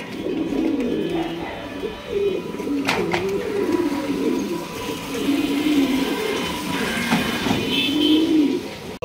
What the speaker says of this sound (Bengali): ভাই দুইটা দুই কোয়ালিটি কবুতর, একটা বোম্বাই একটা লাহোরি।